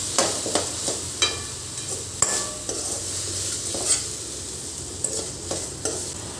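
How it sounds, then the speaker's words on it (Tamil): Panipuri masala ingredients sizzling in a pan while a utensil scrapes and stirs them in repeated strokes, close and steady with no talking. "சேர்த்துட்டு இதையும் நல்லா கிளறி விட்டுருங்க. நல்லா வதங்கி வரணும்."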